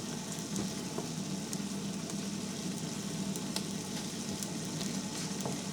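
Shrimp sizzle steadily in butter and garlic in a hot pan, giving a continuous close frying hiss with small crackles and pops throughout, without talk.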